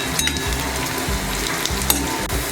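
Onions and curry leaves sizzle in a hot pan as a spoon stirs them, with rhythmic scraping strokes over a steady crackling fry, close and clear.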